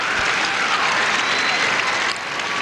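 Crowd applause fills a dog show arena during terrier group judging, a steady loud wash of clapping and cheering that dips slightly near the end.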